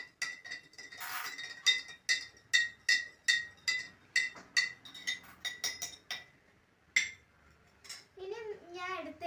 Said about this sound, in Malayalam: എന്നിട്ട് ശരിക്കും ഒന്ന് ഇളക്കി കൊടുക്കാം.